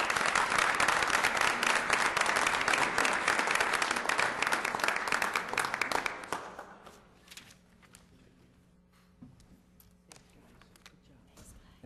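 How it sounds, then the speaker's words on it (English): A council meeting audience applauds a Cub Scout pack, loud and dense clapping for about six seconds before fading abruptly into quiet room tone with faint shuffling and small sounds. "How about a little round of applause for these guys?"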